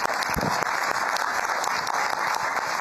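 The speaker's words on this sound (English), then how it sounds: "If all of us just could give our veterans a round of applause" A town hall audience in northeast Baltimore applauds veterans with loud, continuous clapping from a sizable crowd, some sharper individual claps standing out near the front against the steady wash.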